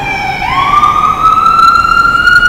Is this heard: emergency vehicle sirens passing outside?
yes